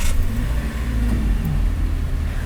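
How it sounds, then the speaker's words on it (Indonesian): A 2018 Toyota Rush with a 1500cc engine idles up close, a loud, steady low rumble with slight unevenness throughout and no speech. "kita langsung nyalain mesinnya aja"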